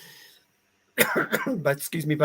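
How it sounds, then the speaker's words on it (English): A short cough and throat-clearing, then a person starts talking right away, close to the mic. "I wondered how long it was going to take me to start coughing"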